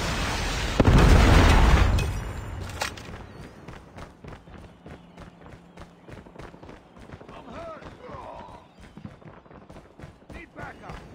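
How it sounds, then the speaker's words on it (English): A loud booming explosion from a Predator missile strike in Call of Duty Mobile on the Monastery map, followed by a rapid run of gunfire and game voice callouts. "Predator missile inbound."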